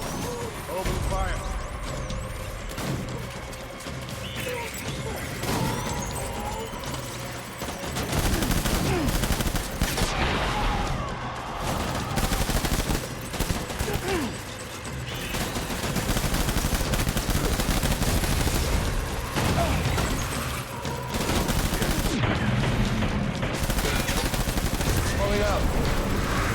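Gunfire in the Death Stranding video game: sustained bursts of shots and automatic fire rolling through nearly half a minute amid vehicle engine noise, with voices talking over the battle.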